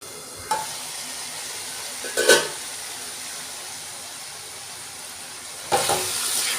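Oyster mushroom gravy with onion in coconut oil cooks in a covered pan, a faint steady sizzle broken by a few brief lid or utensil clatters.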